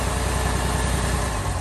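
A 1966 Jaguar E-Type OTS roadster engine idling after the throttle is pulled back, a loud, steady, close rumble with a faint uneven pulse.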